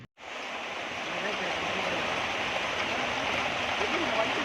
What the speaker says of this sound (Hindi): अभी बहुत जोर की बारिश गिर रही है